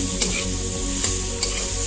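Drumstick curry with cumin-ginger paste being stirred in a hot pan, a continuous close sizzle broken by three light spoon scrapes against the metal.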